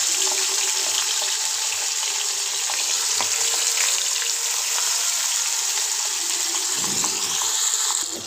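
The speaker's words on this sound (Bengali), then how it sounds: "তেলটা গরম হয়েছে, এখন আমি দিয়ে দিব মাছ।" Fish rubbed with salt and turmeric sizzles in hot oil in a home kitchen, a steady, close, loud hiss that holds evenly throughout with no one speaking.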